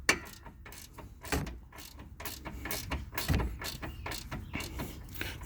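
A ratchet wrench tightening a bolt during a Rough Country lift kit install on a Jeep Cherokee, a series of quiet clicking ratchet strokes in short uneven bursts, close by.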